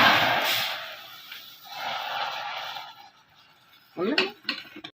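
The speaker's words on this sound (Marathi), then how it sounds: "आता हे आपलं कॅरामल तयार झालेलं आहे. हे दुधामध्ये टाकायचं." Hot caramel poured into milk in a pot for Bengali mishti doi, a short hissing rush at the start, fading into a quieter simmer, then a few sharp clinks of a utensil against the pot.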